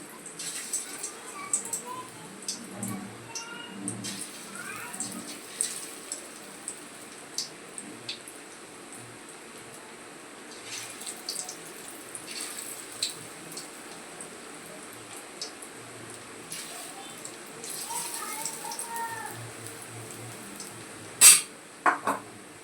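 Lentil pakoras dropped one by one into hot white oil, frying with a soft, continuous crackle and occasional clinks of a utensil against the pan, faint and close, with a person talking throughout.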